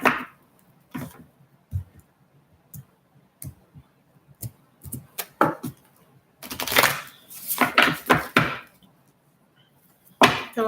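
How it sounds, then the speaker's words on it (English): Tarot cards are shuffled in irregular bursts of crisp flicking and riffling, close up and alone, with quiet pauses between the handfuls. "I feel like I need to shuffle that 2 more times."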